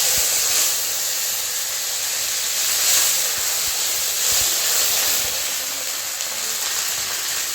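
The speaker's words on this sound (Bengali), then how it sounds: "তেলের মধ্যে আমি আদা, কাঁচা লঙ্কা, শুকনো লঙ্কা বেটে রেখেছি, ওটা দিয়ে দেবো।" A paste of ginger, green chili and dried chili hits hot oil for a cabbage curry and fries in a loud, continuous hiss. The sizzle stays steady and close for several seconds with no voices.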